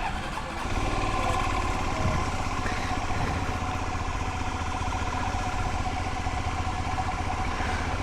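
A sports bike engine fitted in an enduro motorcycle starts and runs steadily, a loud, continuous mechanical drone close by with no talking.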